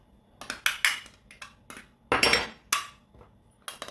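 A can of tuna being opened by hand in a kitchen, a string of uneven metallic clinks and scrapes in short bursts, close and moderately loud, with no talking.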